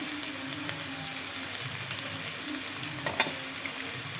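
White onions, ginger and garam masala frying in a pan, a continuous close sizzle with occasional stirring scrapes and a brief clatter near the end, no voices.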